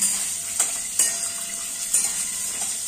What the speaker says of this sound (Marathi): मस्त शेंगदाणे आणि मिरची फ्राय करून घ्यायची